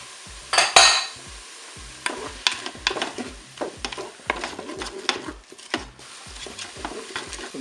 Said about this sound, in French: Maintenant je vais ajouter les crevettes.